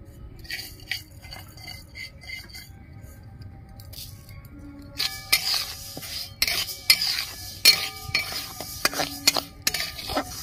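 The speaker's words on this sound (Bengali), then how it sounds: "মুগ ডালটা আমি ভেজে নিচ্ছি।" Mung dal is stirred and dry-roasted in a wok over a lit stove, with a spoon scraping and clinking against the metal; the strokes start soft and sparse, then turn louder and busier with sharp rattling taps.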